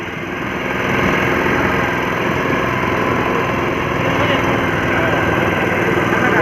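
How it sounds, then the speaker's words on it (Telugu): A motorboat engine drones steadily and close during a boat ride on the Sarayu river in Ayodhya, a continuous mid-pitched rumble that swells in the first second and then holds even, with faint voices underneath. "సరి నదిలో బోటు చికారు చేస్తున్నాము"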